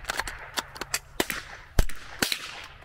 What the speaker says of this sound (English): Some of these bullets sound like duds.